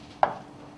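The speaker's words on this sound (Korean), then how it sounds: "가로 2cm, 길이가 3cm 정도로 이거를 썰어 주시면 되겠어요" A single knife chop through a vegetable on a cutting board during prep for a Korean bean curd pickling stew, one sharp close stroke followed by quiet room tone.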